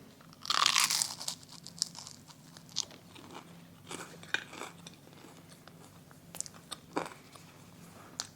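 Someone bites into copycat fried buffalo chicken bites topped with Gorgonzola dressing, with one loud close crunch followed by quieter, irregular chewing crunches and no talking.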